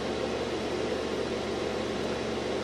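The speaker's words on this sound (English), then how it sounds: "The loud noise you hear is my desktop." A desktop computer fan runs loud at high speed, a steady broadband whooshing hum that stays constant throughout, close and alone.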